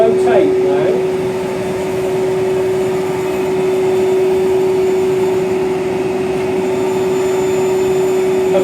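A saw cuts a slow, careful curve in wood for a spice rack, making a loud, steady motor drone with a constant pitched whine that holds evenly throughout, close to the listener.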